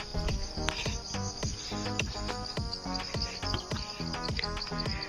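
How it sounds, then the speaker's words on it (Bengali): Crickets chirp steadily in jungle near Khoiyachara waterfall, a dense shrill trilling with regular pulsing rhythm, close and fairly loud, with no voices over it. "ঝিঝি পোকা ঝিঝি শব্দ করে"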